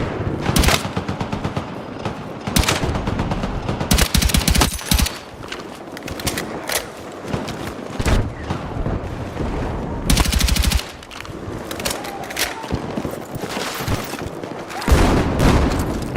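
Rapid bursts of automatic machine gun fire in the video game Battlefield 6, loud and close, come in repeated volleys with short pauses between them, over a dense background of battle noise.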